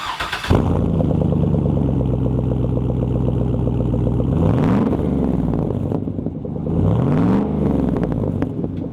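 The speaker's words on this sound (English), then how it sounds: "It's got that V8 rumble." A deep, throaty 6-liter Corvette V8 in a Chevy Trailblazer SS idles with a steady rumble close by, briefly revving twice with rising and falling pitch.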